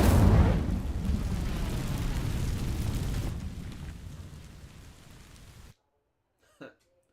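A fiery burst as the Incendio spell sets dry vines alight in Hogwarts Legacy, opening with a loud whoosh that settles into a steady roaring crackle, fades and cuts off, followed by a faint brief sound after a pause.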